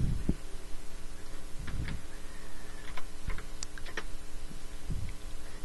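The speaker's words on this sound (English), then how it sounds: "now I'm going to select my text tool, come over here, and type in my field name" Soft, sparse keystrokes on a computer keyboard click up close in a quiet room, a few irregular taps and short bursts with no talking.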